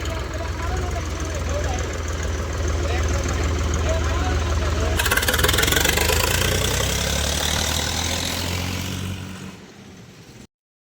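A tractor engine runs steadily while a second tractor is driven off a ramp, a loud continuous mid-low drone that grows brighter and busier midway, then fades and cuts off near the end.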